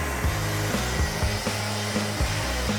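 Wen saw cutting through 1 inch plywood, a steady loud motor whine with a rough sawing buzz and recurring low pulses running throughout, with no voices.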